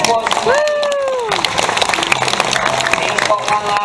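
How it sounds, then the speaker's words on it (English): An audience at a seal show applauds with a steady patter of clapping under a presenter's voice, with a sliding whistle tone early on. "Big round of applause"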